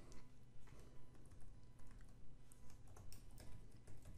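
Numbers are typed on a computer keyboard in a quiet room, a quick, fairly even series of soft clicking keystrokes running for about four seconds at low volume.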